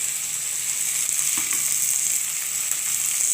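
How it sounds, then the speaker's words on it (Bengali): Large pickling chillies sizzle and fry in hot oil in a pan, a steady close hiss with faint crackles and no voices. "এটাকে ভালোভাবে কষিয়ে ভেজে নেব।"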